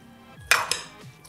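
Spoon or spatula scraping and clanking in a pan while keto fried rice with ginger is stirred, two sharp metallic knocks close together followed by a softer scrape, close and fairly quiet.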